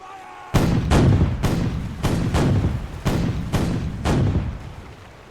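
A brig sloop's cannons fire a salvo in The Weather Gage, a 1793 naval game, with about eight heavy, booming shots in a ragged sequence, each trailing off into a rumbling echo.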